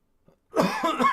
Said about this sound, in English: I've been coughing lately